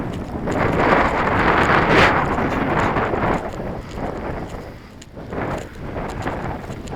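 Strong wind buffets the microphone at a UMX Timber model plane flight, a continuous heavy roar that eases slightly and then gusts again.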